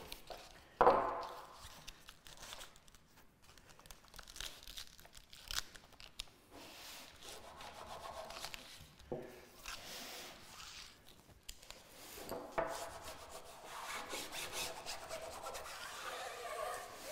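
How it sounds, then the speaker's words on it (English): Adhesive tape on a dinghy sail is folded over and rubbed down by hand, giving soft, intermittent scraping and rasping strokes with crinkly bursts, close and fairly quiet, with no one talking. "Now I can pull this tape back a ways and then fold this up and over, and then give that a rub also"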